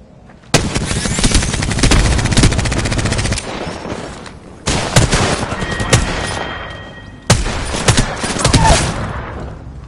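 Bursts of automatic gunfire ring out in the video game Apex Legends: three long, loud, rapid-fire volleys separated by brief pauses, heard up close with no talking over them.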